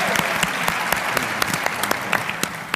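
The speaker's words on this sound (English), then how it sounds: "Can we give a round of applause, please?" An audience at a town hall on voting rights claps steadily, a dense patter of many hands with sharp individual claps standing out, with no talking.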